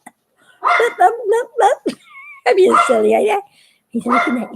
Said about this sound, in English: You know why my dog's barking like that?